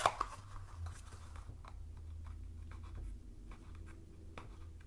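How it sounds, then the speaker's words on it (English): Cardstock is folded by hand for a Halloween tombstone treat box holding Hershey Nuggets: a sharp crease snap at the start, then soft, faint paper rustles and light scrapes at close range. "and fold and fold and fold and fold, and this is kind of fun"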